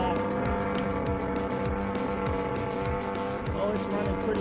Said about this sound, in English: Running a little rich. It's a brand new engine.